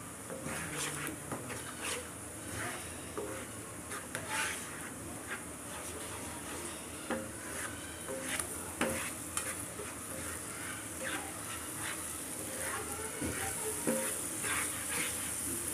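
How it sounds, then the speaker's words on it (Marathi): Masala sizzling and being stirred in a pan over medium heat for dhaba-style whole masoor lentils, a steady close frying hiss with frequent scraping stirs throughout. "आपण हे व्यवस्थित सॉटे करून घेतलेलं आहे। मीडियम आचेवर आपण हे करायचं आहे।"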